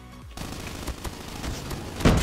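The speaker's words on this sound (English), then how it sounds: "so I shot his body" Sustained rapid gunfire from a first-person shooter match, dense crackling shots with occasional louder bursts, ending in a heavy close volley.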